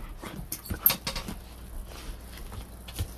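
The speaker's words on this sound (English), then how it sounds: "That's my dog." A dog close by pants and gives soft, intermittent whimpers in short bursts, with light pattering and jingling between them.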